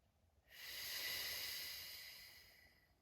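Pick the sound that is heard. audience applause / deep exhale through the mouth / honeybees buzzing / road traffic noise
deep exhale through the mouth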